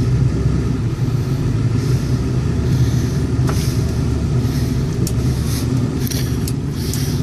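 A pickup truck carrying two hunters on a cold Texas hog-hunting ranch pulls away, its engine a steady, close, loud rumble that holds throughout with no talk over it.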